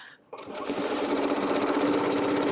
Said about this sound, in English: Now you can tell I'm sewing a lot faster than I normally do